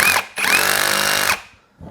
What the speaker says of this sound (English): grab my trusty Ryobi brushless drill, which I love.